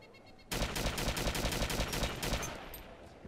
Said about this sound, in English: So you shoot them in the face.